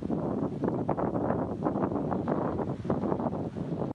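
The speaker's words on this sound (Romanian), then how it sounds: "Vântul a atins 140 de kilometri pe oră." Strong storm wind gusting up to 140 km/h in Poland roars as a dense, steady broadband rush with surging gusts, loud and close to the microphone throughout.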